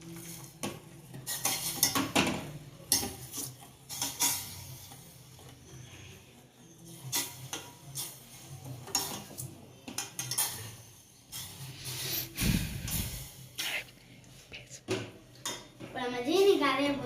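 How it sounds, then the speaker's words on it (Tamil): Sugar dissolving in a cooking pan for paal bun is stirred with repeated metallic scrapes and clanks of spoon on pan, while voices, including a child's, talk intermittently in the background. "நல்லா நம்ம கிண்டணும். இது ஜீனி கரையாது கொஞ்ச நேரம் ஆகும்."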